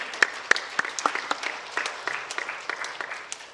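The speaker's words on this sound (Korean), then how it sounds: "우리 박수로 하나님께 영광을 돌리겠습니다." A congregation at a church revival meeting claps in a brief, fairly quiet round of applause, with individual hand claps standing out sharply before the sound thins.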